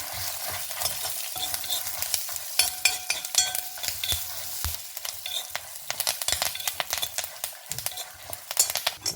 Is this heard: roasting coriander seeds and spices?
yes